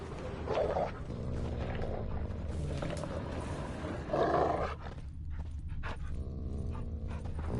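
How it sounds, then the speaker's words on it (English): Dogs in The Witcher 3 growl and bark with two short louder bursts rising over a steady low rumble of game ambience, without speech. "Just beware of the dogs."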